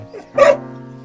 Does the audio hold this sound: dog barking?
yes